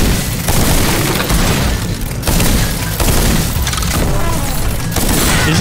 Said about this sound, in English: Is that a trumpet cannon?